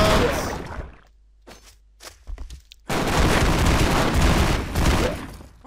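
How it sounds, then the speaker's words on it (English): Gunfire and large explosions in the action video game Expendabros come as loud dense bursts, with sparse cracks between them and a sustained heavy volley in the second half. "A lot of gunshots!"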